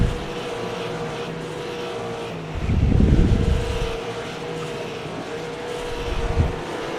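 Race cars roaring around Hickory Motor Speedway, a short oval, during the Easter Bunny 150, with a steady engine drone that swells loudly as a pack passes around the three-second mark, then settles back to a continuous distant rumble.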